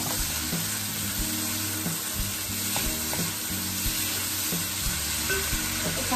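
Ingredients sautéing in a hot pan for tawsi na bangus, milkfish with black beans, a continuous close sizzle with periodic scraping stirs of a spatula, no talking.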